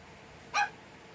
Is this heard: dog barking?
yes